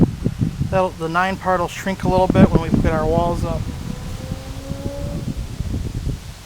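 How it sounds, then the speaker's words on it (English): Low rumbling wind buffets the microphone throughout, a steady gusty roar under a man's nearby speech. "sorry about the wind"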